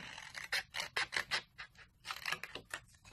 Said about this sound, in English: So we'll just cut up here and then cut away this section here.